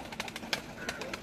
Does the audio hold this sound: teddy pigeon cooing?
yes